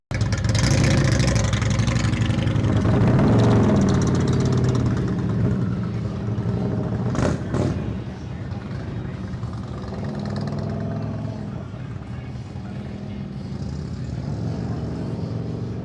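An Indian touring motorcycle fitted with Tab Performance slip-on exhausts rumbles loudly, its engine note swelling early and then settling into a steady, lower idle, with a sharp knock partway through.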